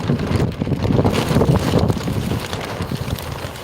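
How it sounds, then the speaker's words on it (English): Steady wind buffets the microphone in low, rumbling gusts throughout, with no voices heard, outdoors in a garden on a frosty morning. "It's a windy day out here."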